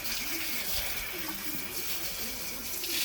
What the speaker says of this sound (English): So just gonna wash this down a little bit.